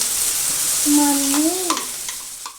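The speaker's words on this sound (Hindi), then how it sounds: "यहाँ हस्बैंड लगा रहे हैं दाल को तड़का।" Spices sizzle in hot oil, tempering for dal, with a steady hiss, while a thin rising squeal and a few sharp clinks of stirring cut through.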